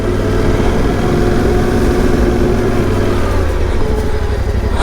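A motorcycle climbs a sandy hill, its engine droning loud and close under steady throttle, a continuous rough low hum with a slight dip in pitch toward the end and no voices.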